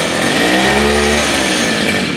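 A grass cutter's small two-stroke engine runs loud and close, its buzzing whine rising and steadying as its chainsaw attachment revs continuously.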